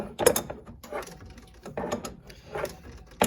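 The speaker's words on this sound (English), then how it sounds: "Apparently we're not quite there yet, so we're going to keep going with the wrench." A long-handled wrench loosens an oil cooler line fitting on a 1992 Chevy 350, soft close metallic clicks and scrapes in a few uneven strokes, fairly faint.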